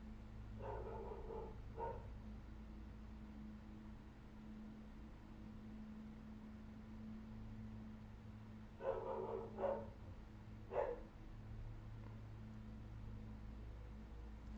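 A dog named Pip gives a couple of short bursts of barking indoors, a quick pair of barks followed after a long pause by a second cluster, fairly muffled over a low steady hum.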